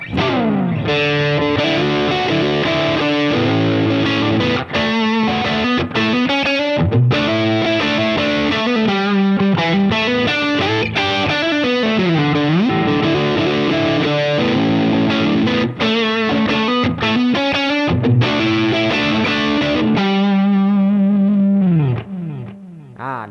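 Overdriven electric guitar through a Headrush MX5 amp-and-effects unit, riffing continuously with gritty, saturated tone and sustained chords, loud and upfront, fading out at the end.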